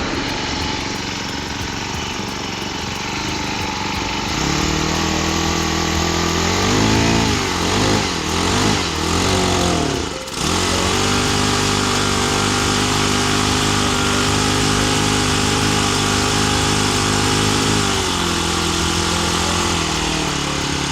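A small engine, just started once its throttle cable was fitted, runs at a steady, loud idle with a brief revving dip partway through, then settles back to an even chugging drone.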